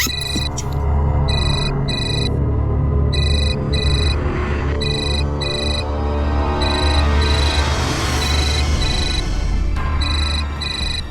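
A phone rings with an incoming call, a loud electronic ringtone repeating in regular bursts of bright beeping tones over a steady low hum and dramatic background music.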